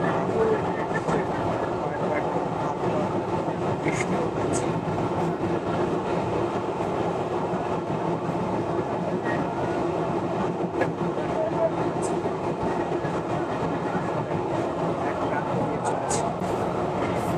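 Mongla commuter train running from Mongla to Khulna, heard from inside the carriage as a steady loud rumble with faint wheel clatter throughout.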